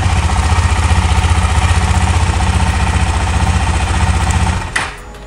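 A KTM Duke 250 motorcycle sits running at idle with a loud, close, rapid, even thumping pulse that holds steady before cutting off abruptly near the end, leaving a quieter background.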